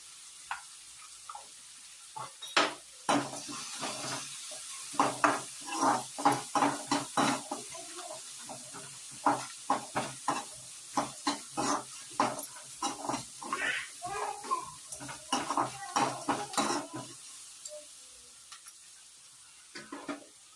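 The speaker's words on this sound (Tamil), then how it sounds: "இப்போ வந்து நம்ம வெங்காயம் வதங்கிறதுக்காக ஆட் பண்ணியிருக்கோங்க" Chopped onions sautéing in a pan for a spinach stir-fry, stirred with a utensil that gives a run of short scraping, clinking strokes over a soft sizzle, close and fairly quiet, ending in a brief quieter stretch.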